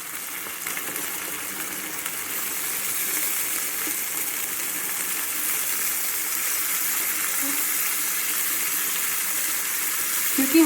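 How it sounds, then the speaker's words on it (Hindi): Water pours into a hot cooking pot of browned aloo chicken curry with a steady broadband hiss and sizzle that lasts throughout, with a slight rise near the end. "अब इसके अंदर जो है मैं पानी शामिल कर रही हूँ।"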